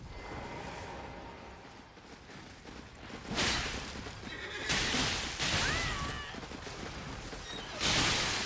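Horse whinnies from a knight's mount in Elden Ring, several loud rising calls over a steady game ambience, with soft hoof clops and a whooshing burst near the end.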